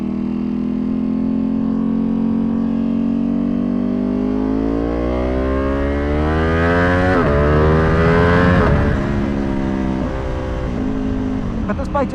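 A tuned Ducati Panigale V2 motorcycle accelerates hard from a stop in street riding, its engine note climbing steadily through the revs with a loud, close, rising drone before a brief gear change and continued pull.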